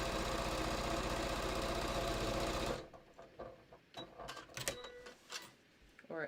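A sewing machine quilts batik fabric in a steady, loud mechanical whir for a few seconds, then stops abruptly. Soft handling clicks and rustles follow.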